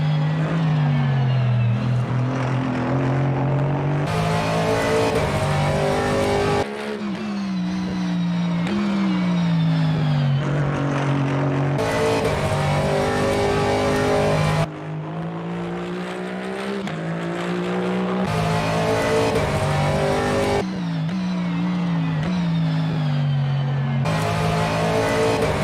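A race car laps in the rFactor 2 sim driven on a Fanatec CSL DD direct drive wheel, the engine revving up and dropping sharply through repeated gear changes, loud and close with no voices.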